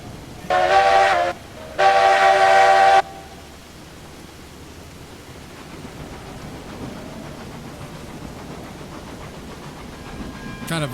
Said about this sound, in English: Just gonna put this train to bed.